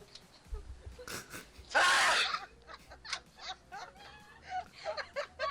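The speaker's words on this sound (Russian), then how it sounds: "Он обычно чихнул, но громко." One loud, close sneeze bursts out after a short intake, surrounded by chattering, clucking-like vocal sounds and light background noise.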